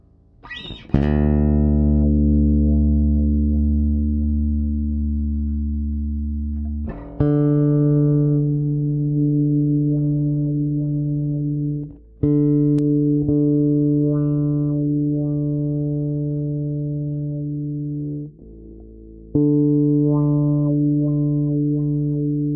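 Sustained low notes on an Alembic Series 2 bass, played through the bridge pickup, each plucked and left to ring, with a filtered tone that shifts between five struck notes.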